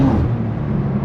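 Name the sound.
BMW M2 G87 inline-six engine on the Autobahn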